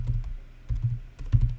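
Keys on a Mac computer keyboard are tapped in short bursts of close, crisp clicks, with pauses between clusters and no talking.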